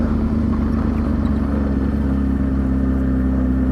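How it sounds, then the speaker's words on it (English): A Honda NSX sports car's engine gives off a steady mid-pitched drone with a low rumble, close and continuous for a few seconds, with no voices over it. "look at that NSX"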